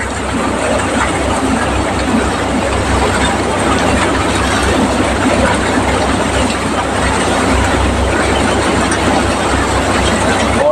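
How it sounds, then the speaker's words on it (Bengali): A mustard threshing machine runs nearby in a field, giving a loud, steady mechanical drone with a dense rustling rattle throughout, and a voice talks over it. "সর্ষেগুলো নিয়ে ওই মেশিনের মধ্যে দিচ্ছে ওখান থেকে সরষে হয়ে নিচের দিকে বেরিয়ে আসছে"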